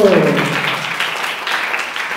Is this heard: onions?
no